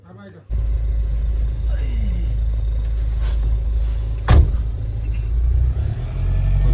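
A car driving at night on a road near wildlife areas in Nepal, with a steady engine rumble and road noise throughout and a brief louder thump partway through, while people talk inside.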